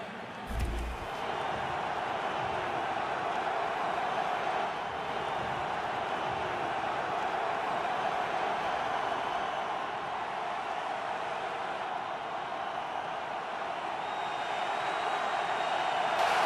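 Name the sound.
stadium crowd cheering at an NFL football game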